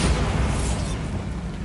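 A magical Bombarda blast spell in the Hogwarts Legacy video game, a loud, dense burst of explosive noise filling the whole short moment, fading slightly toward the end.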